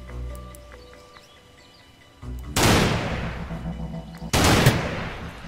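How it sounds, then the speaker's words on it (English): Two loud bursts of gunfire in a video game shooter, each a sharp blast with a lingering tail, sounding over a quiet ambient game backdrop with no talk. "Gun."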